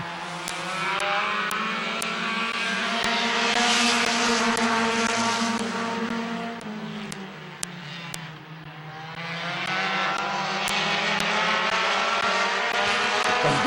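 Race cars roar around the oval at Midvale Speedway on the final lap of a heat race, a loud, continuous engine drone rising and falling as the pack sweeps past close by, with no talk over it.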